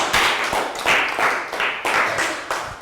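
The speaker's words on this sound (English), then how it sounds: "Big round of applause for Chu" Year 3 pupils in a classroom clap for a classmate in quick, loud, evenly spaced group bursts, close by.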